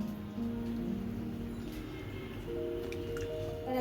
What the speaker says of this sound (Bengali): ছানাটা ছিল তো একটু পরিষ্কার জলে আমি একটু ধুয়ে নিচ্ছি